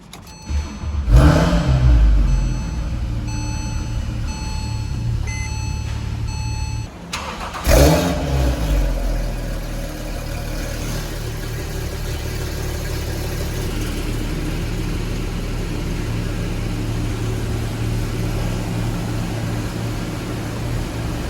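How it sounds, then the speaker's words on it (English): A Porsche 997.2 911 Carrera 2S with the optional sport exhaust cranks and fires loudly, settles briefly, then gives a sharp blip of revs before dropping to a steady, throaty idle. "we do get the optional sport exhaust system on this 911."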